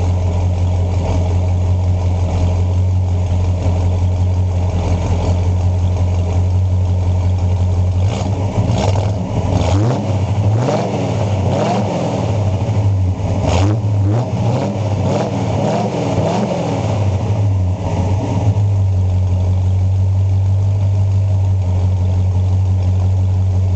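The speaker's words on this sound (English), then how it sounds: "I give her a little gas, let you hear." A 1966 Pontiac GTO convertible with the Tri Power engine, four-speed and stock dual exhaust idles with a steady loping rumble, then gets several loud revs in the middle before settling back to idle, with no talking.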